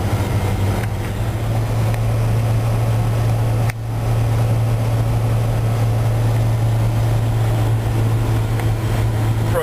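Wood gas powered vehicle driving at about 45 on the road, its engine holding a loud, steady low drone with constant road and wind roar throughout and a brief dip partway through.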